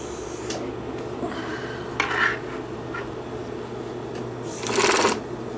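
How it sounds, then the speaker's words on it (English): A Bonis heavy-duty sewing machine stitches thick leather with a steady mechanical hum, broken by short scraping bursts of handling and a louder clatter near the end. "And that's the way you're sewing with this machine."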